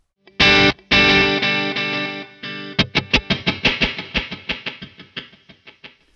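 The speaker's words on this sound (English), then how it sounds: "make it more ambient with some reverb" A guitar through an effects pedal with reverb set to a long decay: two loud strummed chords that swell and ring, then a run of picked notes whose tails blur together and fade slowly.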